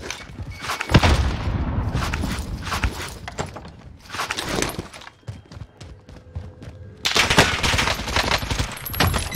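Bursts of rapid automatic gunfire crackle in Call of Duty Warzone, coming in several loud clusters separated by brief quieter gaps with scattered footsteps and small impacts.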